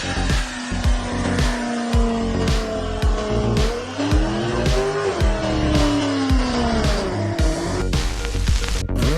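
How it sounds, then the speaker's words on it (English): Car burnouts with thick smoke, loud screeching tire squeal rising and falling in pitch over a revving engine, with sharp repeated bursts and a hiss of skidding rubber, close and continuous. "The burnout smoke from these cars is astounding."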